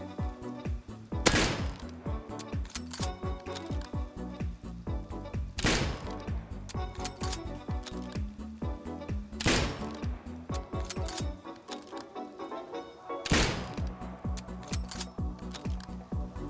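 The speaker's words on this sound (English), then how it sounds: "Every single time I click fire, I also push the reload key at exactly the same time." A rifle in the survival game Rust fires while a reload glitch is triggered: single loud shots land about every four seconds over a busy, fainter mechanical and musical background.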